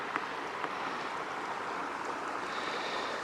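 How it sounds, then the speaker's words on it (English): A gentle little stream, Lemmon Creek on a mountain trail, gives a steady rushing, babbling wash of water that holds even and close throughout, with no voices. "Just a gentle little stream."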